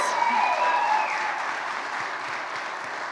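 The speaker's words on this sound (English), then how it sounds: "So let's give them a round of applause." Audience applause at an evening leadership awards ceremony, a dense steady clapping from a crowd that continues for about three seconds and eases slightly toward the end.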